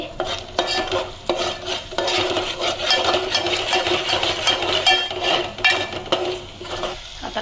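Ground spice paste with turmeric and Agri masala frying in oil is stirred briskly in a pan, a loud continuous scraping and sizzling close by, with short pauses between strokes.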